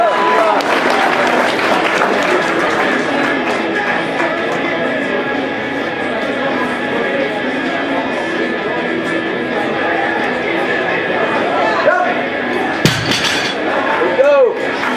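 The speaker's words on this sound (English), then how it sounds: "Round of applause for Jessica." Audience applause at a USAPL raw nationals powerlifting meet, following a women's 72 kg deadlift attempt, a steady broad wash of clapping and crowd chatter in a large hall under continuous announcer talk, with a louder clatter near the end.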